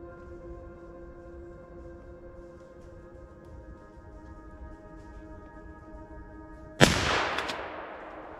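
A single sharp, loud Blaser R8 hunting rifle shot fired at a roe deer during a driven hunt, cracking suddenly after several seconds of quiet outdoor ambience and trailing off in a brief echoing decay.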